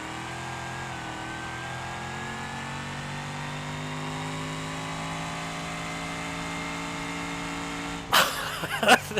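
Engine of a blown track car in the BeamNG.drive game droning and gradually dropping in pitch as it fails, then a burst of harsh crunching and rattling noises near the end, loud and alone.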